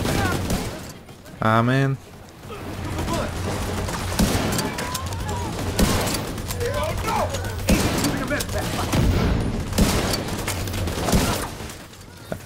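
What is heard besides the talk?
gunfire in the video game The Division 2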